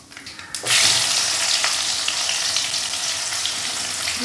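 Fennel seeds hit hot oil for a rock fish curry and burst into a loud, steady sizzle that starts abruptly and holds without a break, close up and with no voices.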